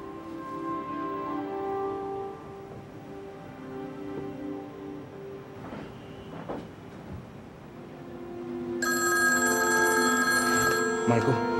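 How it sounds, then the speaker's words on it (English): Telephone ringing in a room, with electronic rings rising over people talking and background movement, growing louder and brighter toward the end. "Go answer the phone. Pick up the phone"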